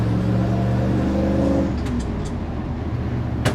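A 1977 Ford F-150 Ranger XLT 4x4 pickup with a 4-speed accelerates at half throttle, its engine note rising steadily for over a second before easing into a softer road whir, with a few faint clicks.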